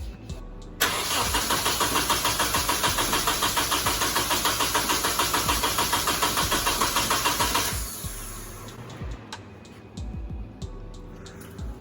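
A Nissan 240SX with a worn starter cranks for about seven seconds in a steady, rapid chugging rhythm, loud and close, then stops without catching, leaving faint clicks and small noises afterward.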